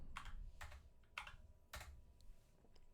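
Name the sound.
typing on a computer keyboard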